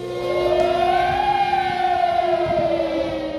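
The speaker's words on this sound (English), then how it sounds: "Such air raid sirens sounded in several cities in northern Kosovo." A loud air raid siren in northern Kosovo wails continuously, its pitch rising and then slowly falling in a long, steady tone.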